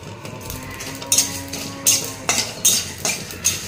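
Fennel seeds and whole spices being dry-fried in a pan, with repeated metallic clinks and scrapes of a spoon stirring against the pan over a low steady hiss, close and moderately loud.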